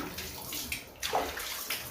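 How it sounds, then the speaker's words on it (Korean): Water from a shower runs steadily over a Border Collie being bathed, a continuous close hiss with slight splashing variations and no talking. "우리 다롱이가 열흘 동안 엄마를 떨어져 있어 갖고요 이렇게 샤워를 못했어요"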